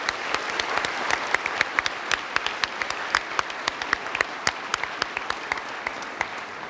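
An audience applauds school award recipients with sustained, even clapping, crisp individual claps standing out from a moderate, steady wash.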